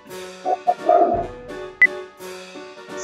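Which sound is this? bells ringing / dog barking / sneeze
dog barking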